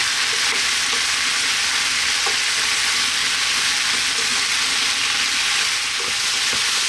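Greek vegetable stew sizzles and fries steadily in a pan while being stirred, a bright continuous crackle with soft scraping touches, close up and alone.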